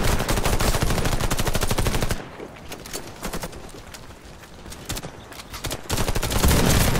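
Rapid gunfire from a firefight in Warface, loud fast repeating shots in dense bursts at the start and end with a sparser exchange of shots between them.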